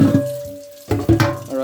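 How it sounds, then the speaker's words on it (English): Tap water runs into a sink to wash a dish, starting abruptly after a quiet stretch with a steady hum, then splashing and gushing in uneven bursts, close and moderately loud. "Alright, so you get some water in there."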